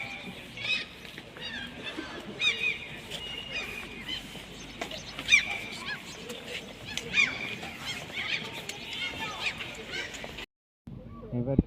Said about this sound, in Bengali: দেখো দেখো দেখো পাখিগুলো কত সুন্দর, কি সুন্দর।